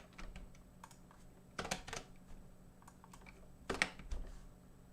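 Quiet typing on a computer keyboard during a character-rigging session, with irregular clusters of soft key clicks and a few louder bursts, close but faint, no voices.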